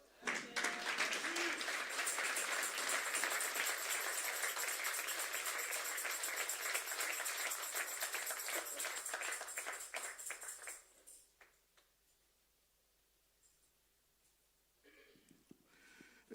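A French-speaking church congregation gives loud, dense applause that runs for about eleven seconds. It then dies away quickly into near silence, with a faint voice and slight rustling near the end.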